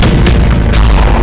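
A single very loud, booming gunshot from a dubbed action film, with a heavy low-end blast that fills the short moment.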